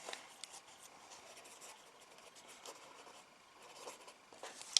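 A pen writes on a paper page in a handmade book, soft continuous scratching with small strokes and taps, close and quiet.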